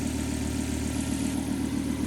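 An M66 engine idles steadily and low throughout after being retimed, an even rumbling drone with no revving, close and continuous.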